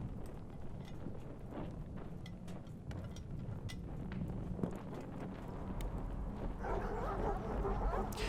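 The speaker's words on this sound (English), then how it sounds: "You awake to the sound of distant barking. Seems one of the dogs has been excited by something." Dogs barking in the distance within the game The Pale Beyond, a muffled, irregular run of yips and barks over a steady low ambient rumble, growing slightly fuller toward the end.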